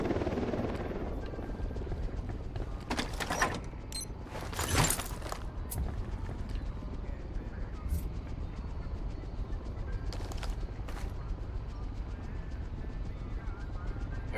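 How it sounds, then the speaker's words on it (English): A helicopter's rotor in Ghost Recon Wildlands drones steadily throughout, a constant whirring hum with a few sharp clicks and bursts scattered over it, no voices. "We got a chopper coming in."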